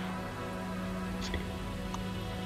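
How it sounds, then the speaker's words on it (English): Rain effects in the video game Binary Domain: a steady hiss of falling rain over a low constant hum, with a couple of brief soft patters, no voices. "the rain effects aren't bad. It looks kind of realistic"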